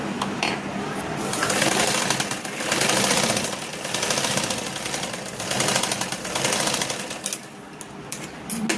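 A sewing machine stitches a half-inch shoulder seam in a tailoring session, running in a fast, continuous mechanical patter that swells and eases slightly over about nine seconds.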